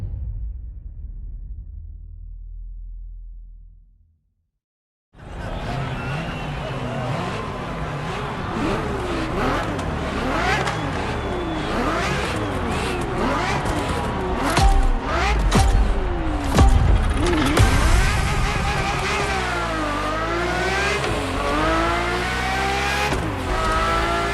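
Ferrari F50 supercar in The Crew Motorfest racing game, its engine loud and close, revving up and down through gear changes after a brief silent start, with tire noise and no talking.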